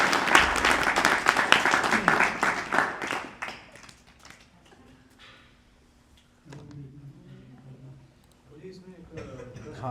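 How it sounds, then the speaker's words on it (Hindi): An audience claps for Lord Nityananda Prabhu at a devotional gathering, a brisk burst of many hands that fades within a few seconds, after which a voice speaks. "ताली तो भगवान के लिए बज ही सकती है।"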